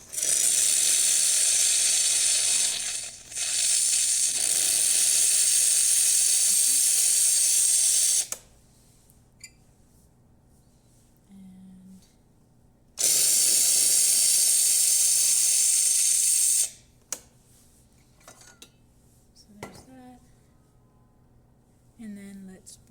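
Steam wand of a serviced Jura Impressa F7 coffee machine hissing loudly in two long bursts of several seconds each, with quiet clicks and mechanical knocks from the machine between and after them.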